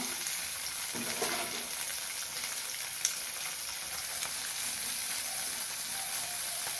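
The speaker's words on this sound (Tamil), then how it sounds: "இப்போது இருபது பல் பூண்டு சேர்த்துக்கிறேன் ஒரு நிமிஷம் வதங்கட்டும்" Twenty garlic cloves sautéing in a pan for Tamil karakuzhambu, giving a steady, close crackling sizzle that hardly changes throughout, with a few faint clinks of stirring and no voices.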